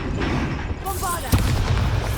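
A Bombarda blast spell in the Hogwarts Legacy video game erupts as one sharp, loud boom partway through, over a steady bed of game ambience and faint voices.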